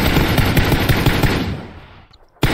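Long-range gunfire in PUBG arrives as a loud, rapid string of shots in a steady rhythm that fades out, then a single sharp shot cracks after a short pause.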